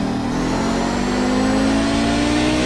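An Audi 90 GTO race car engine at full throttle in iRacing at Watkins Glen, a loud, steady, close mid-pitched roar that holds constant with a slowly rising tone throughout.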